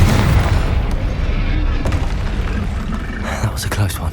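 A Confringo explosive spell bursts in Hogwarts Legacy, a loud booming blast that rolls into a lingering rumble, with a voice shouting a spell over it.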